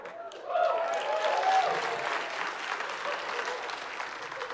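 Applause from a stand-up comedy audience rises quickly and holds as a broad, steady wash of many hands clapping in a room, moderately loud, with no talk over it.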